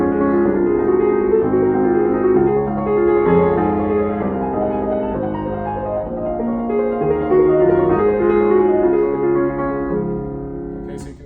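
Solo piano plays the trio section of Schubert's Impromptu Op. 142 No. 2 on a Steinway in a showroom gallery, with steady chordal phrases sustained at full volume throughout and no talking.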